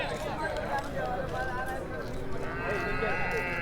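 Goats bleat repeatedly at the crowded Vadalur livestock market in Tamil Nadu, several calls overlapping against a steady din of chatter and bustle, with someone talking nearby.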